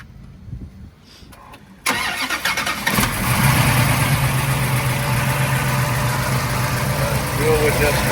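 A 1970 Plymouth Hemi Cuda 426 with a shaker hood cranks and fires up loudly, then settles into a rough, rumbling idle that holds steady, with brief talk before it starts.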